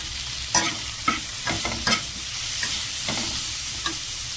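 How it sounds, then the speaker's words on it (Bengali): Dried red chilies, bay leaf and radhuni spice tempered in hot oil for a bottle gourd dish, crackling and sizzling close up with several sharp stirring clinks and scrapes over a steady fry. "রাঁধুনি, শুকনো লঙ্কা, তেজপাতা ফোড়ন দিয়ে দিয়েছি।"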